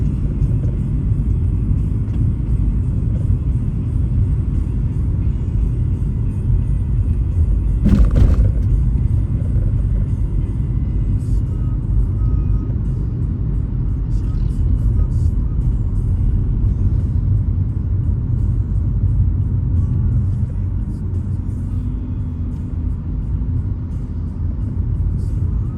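A car jolts and vibrates violently over rough, bumpy highway in Zamboanga City, Philippines, giving a steady, loud low rumble of road and cabin noise throughout with one sharp knock partway through.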